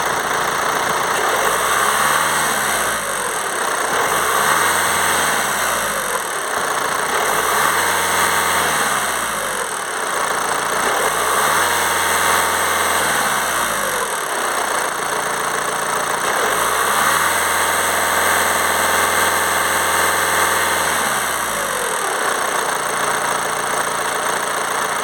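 VW Transporter van engine with a turbo position sensor fault, revved repeatedly in slow cycles, each rev rising and falling over an idle hum, loud and close with no talking.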